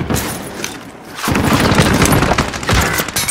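Gunfire in Call of Duty Warzone Season 2: after a quieter opening second, a loud, dense fusillade of rapid machine-gun bursts and booming shots fills the rest, with a brief dip before the firing resumes.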